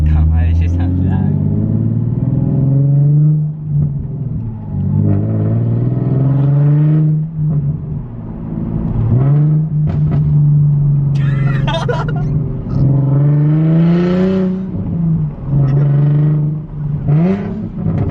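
A Nissan 370Z with a straight-pipe exhaust and no catback roars loudly during a drive, its engine note rising and falling through repeated revs and shifts, heard from close by inside the car, with voices talking over it.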